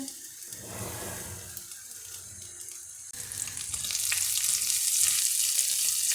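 Pork fat sizzles and crackles in a hot frying pan, quiet at first and then growing into a louder, steady frying hiss.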